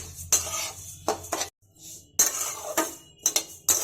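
Sesame seeds dry-roasting in a kadai over low gas flame, stirred steadily: a few bursts of scraping and clinking of a spoon against the pan, separated by short pauses, close and moderately loud with no talking.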